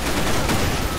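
Gunfire in a video game comes as a dense, loud burst of rapid shots packed into one second, with no pauses between them.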